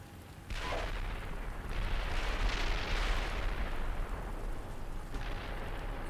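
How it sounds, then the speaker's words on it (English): Friendly artillery fire lands in Steel Beasts Pro tank combat: a sudden heavy blast opens into a long, rolling rumble of impacts that swells and lingers, followed by another softer concussion near the end. "Friendly indirect fire landing."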